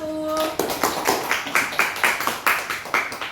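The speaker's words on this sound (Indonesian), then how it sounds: "Kita berikan aplaus untuk kelompok 1" A classroom of students gives a round of applause after a group presentation, steady rhythmic claps that rise and fall over about three seconds, with a brief voice at the start.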